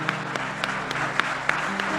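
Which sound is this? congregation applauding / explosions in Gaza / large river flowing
congregation applauding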